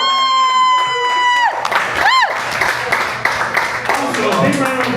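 A comedy club audience cheers and claps loudly after a sustained electronic tone cuts off. Whoops and applause fill the room while the host speaks over them.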